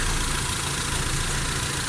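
Owner type jeep engine idling steadily around 800 to 820 RPM after five months in storage, a constant close low rumble with even texture and no talk.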